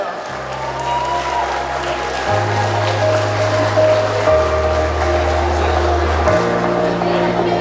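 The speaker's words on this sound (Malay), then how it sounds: "Ayo sama-sama berikan tepukan pada SMK Convent Jalan Pil." Audience applause for a secondary school choir at a mental-health awareness event, a steady wash of clapping that holds throughout while a low sustained musical drone shifts pitch underneath.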